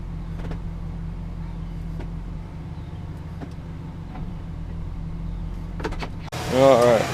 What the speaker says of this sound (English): Alright, we gotta check this thing as it's running.